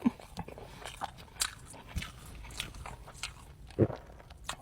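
Crispy Australian beef brisket being bitten and chewed close to the mic, with scattered soft crunches and wet chewing clicks at an irregular pace, faint and without talk.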